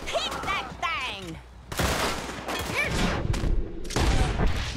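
Gatling gun fire in Red Dead Redemption 2, loud, dense broadband bursts of rapid shots that come in waves over about five seconds, mixed with voices talking over the shooting.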